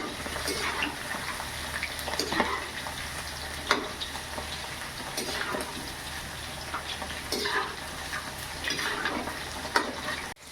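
Okra (bhendi) fries in hot oil in a pan for masala bhendi, a steady bright sizzle with repeated scraping and clattering as the pieces are stirred and turned over, close by.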